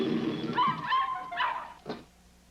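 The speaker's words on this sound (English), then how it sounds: "Crazy dog." A dog yips and whines in quick, pitched bursts nearby, then lets out one short, sharp bark before things go quiet.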